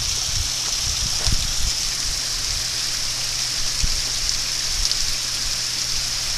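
Water pours steadily down a waterfall beside a forest road along Big Piney Creek, a constant close rushing hiss with no pauses and no talk.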